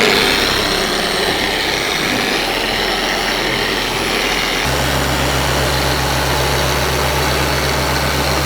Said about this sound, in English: Fabio's going full speed with the DA